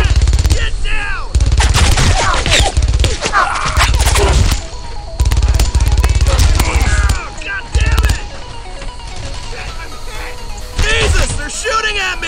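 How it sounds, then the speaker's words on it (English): Heavy gunfire in the World War II video game Brothers in Arms, loud bursts of rifle and machine-gun shots crackling in clusters, with shouted squad commands and voices over the firing. "A lot of bullets are coming my way here!"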